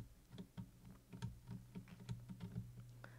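Computer keyboard keys clatter in quick, irregular taps while someone plays a Roblox drifting game, faint and close with no voices.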